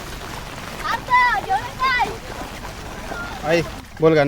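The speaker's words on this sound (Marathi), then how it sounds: "पाऊस आता तुम्ही बघता भरपूर असं वाढलं आहे." Heavy monsoon rain pours over farmland in Chiplun, a constant hiss under loud, close voices talking.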